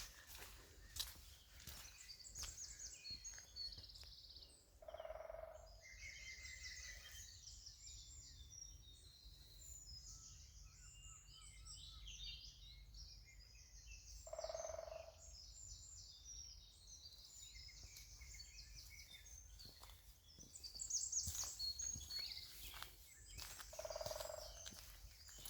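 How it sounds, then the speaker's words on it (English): Woodland birdsong with robins and a woodpecker, faint high chirps and trills scattered across a quiet forest background, with soft footsteps and occasional louder calls recurring every several seconds. "Isn't that lovely? Woodpeckers, robins."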